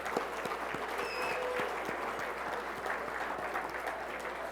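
Dinner guests at an awards banquet give a steady round of applause, with continuous clapping at moderate loudness throughout the short span.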